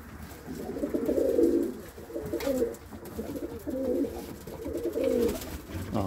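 Pigeons in a breeding loft coo in repeated soft, throaty phrases close by, with a quiet room hum between calls.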